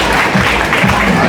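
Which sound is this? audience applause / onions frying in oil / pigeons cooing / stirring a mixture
audience applause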